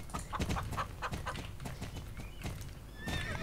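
A horse in the game Star Stable Online whinnies while its hooves clip-clop in a steady rhythm, close and clear, with chicken clucks and birdsong in the background; someone talks around it.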